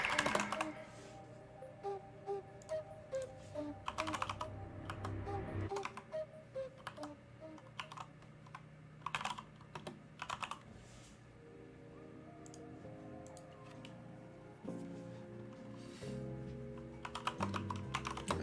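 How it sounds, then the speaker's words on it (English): Someone types on a computer keyboard in quick bursts of clicking, faint and close, with a low steady background hum under the keystrokes. "I'm typing up keywords here."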